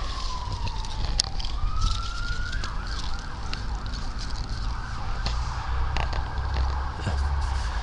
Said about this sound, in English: Sirens are busy tonight.